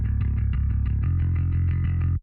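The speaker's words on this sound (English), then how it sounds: "we chose a bass amp tone using this Ampeg plugin here" Palm-muted bass through an Ampeg amp plugin on a dark, low preset, a fast steady chug of picked notes, heavy and thick in the lows, changing pitch once about halfway through the short phrase.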